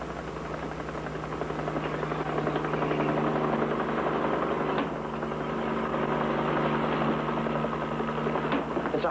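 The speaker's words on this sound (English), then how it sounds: "It's a highway patrol copter." A highway patrol helicopter flies overhead, its rotor and engine drone steady and fairly faint throughout, with no one speaking.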